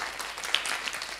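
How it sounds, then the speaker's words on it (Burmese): Brief round of applause from an audience at a group discussion session, a short, soft patter of many hands clapping at a distance. "ကျေးဇူးတင်ပါတယ်လက်ခုပ်တီးပေးရအောင်"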